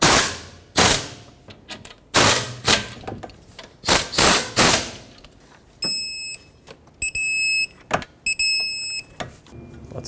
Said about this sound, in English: Let's tighten them up, get these snugged up, and then the torque is 35 foot-pounds for all three.